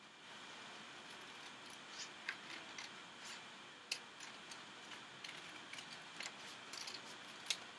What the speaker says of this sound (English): I'm going to take my scissors, and I'm going to go ahead and cut that out.